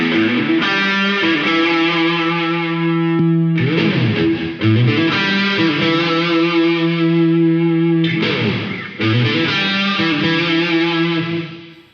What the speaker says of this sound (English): If you run a drive into the reverb,